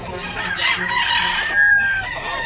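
A pumpkin bulik gamefowl rooster crows once, loud and close, a strained rising call lasting about two seconds against faint background noise at a rural market in Tabunok, Cebu.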